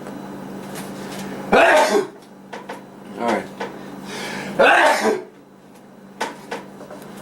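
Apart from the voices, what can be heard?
sneezing while cooking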